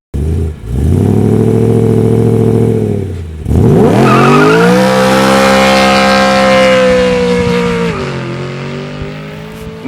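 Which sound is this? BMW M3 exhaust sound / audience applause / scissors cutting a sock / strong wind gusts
BMW M3 exhaust sound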